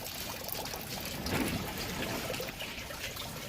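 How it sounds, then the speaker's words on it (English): Water pours and trickles steadily into a pea-gravel aquaponics grow bed inside a Shelterlogic greenhouse, a constant close splashing flow that swells briefly midway. "I have water coming in from the bottom."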